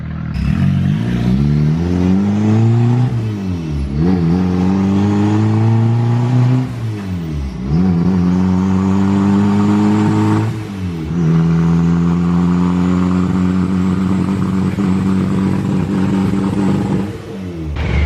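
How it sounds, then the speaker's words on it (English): A turbocharged B18C1 Honda Civic hatchback engine revs hard and loud on a dyno, pitch climbing steadily through several gear shifts with brief dips between pulls, no voices. "the car just got strapped to the dyno right now. That was the first like baseline pull"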